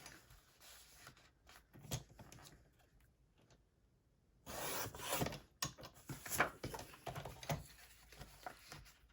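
Paper is cut for a handmade birthday album, with soft scraping and snipping, quiet at first, then a louder burst of rustling and cutting cuts partway through.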